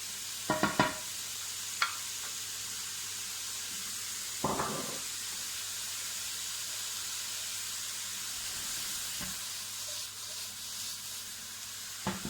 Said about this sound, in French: Maintenant, on va bien faire revenir nos lardons.